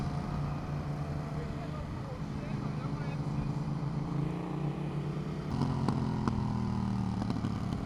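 A Yamaha MT motorcycle engine drones steadily at close range and swells as it revs, with sharp crackles and pops breaking through near the end.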